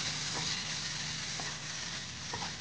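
Chopped tomato hits a pan of frying chilli and turmeric powder, sizzling steadily with soft stirring scrapes, moderately quiet and without talk.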